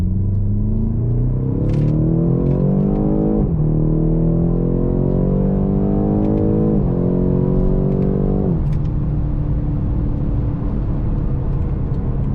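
A BMW X6 M in sport mode pulls hard from second gear, its engine climbing loudly through three rising sweeps with quick upshift dips between them, then settling into a steady high-speed roar, heard from inside the cabin.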